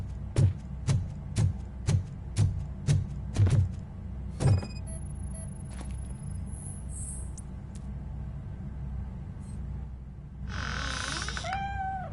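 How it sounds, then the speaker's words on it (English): A cat in the Robocop game meows about seven times in a steady series, fairly close and clear, followed by quieter ambient sounds and a brief synthetic tone. "The cat is fine."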